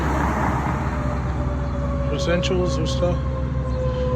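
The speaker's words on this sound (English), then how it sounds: "Oh, there's a fire truck coming out." A fire truck's siren sounds on a town street in Teaneck, wailing from a distance in a few rising bursts over steady traffic rumble while a person talks nearby.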